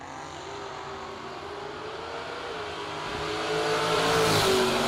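Drag racing cars at a Fall Fling event, including a 1979 Camaro and an S10, roar off the line, a steady loud engine drone building and rising in pitch toward the end, with no talk.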